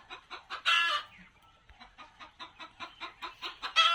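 Small caged quail cluck and chirp in quick, rhythmic bursts, a steady chorus of short calls from several birds close by.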